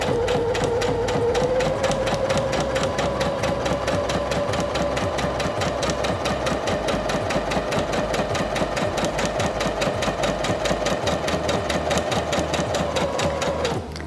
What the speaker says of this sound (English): Step on the foot controller to start sewing